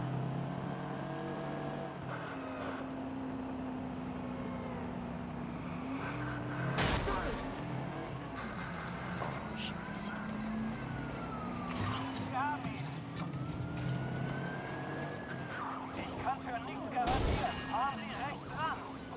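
A damaged car drives in the game Watch Dogs, its engine humming steadily alongside wailing police sirens and occasional sharp impacts, with someone talking over it.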